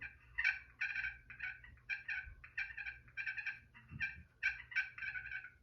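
Soft, rolling purrs on a Flex Tone Potluck turkey call, a quick run of short fluttering bursts in an uneven rhythm, close and fairly quiet with no voices.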